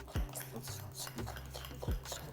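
Baking soda being mixed into mashed bananas in a bowl for banana bread, with a few soft utensil knocks and scrapes against the bowl at an irregular pace, fairly quiet and close.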